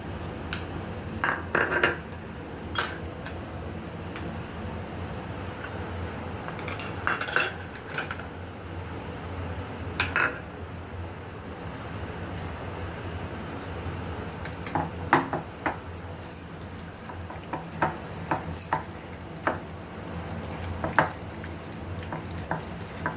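A metal spoon clinks and scrapes against a bowl while chicken is mixed with salt, turmeric, chili powder, ginger-garlic paste and yogurt, irregular close taps and rattles over a low background hiss.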